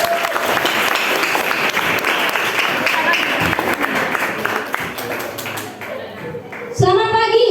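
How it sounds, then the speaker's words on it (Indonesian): Sustained audience applause fills a school orientation session for junior and senior high students, dense clapping from a crowd indoors that fades toward the end before a voice speaks briefly. "Tepuk tangan buat kita semua."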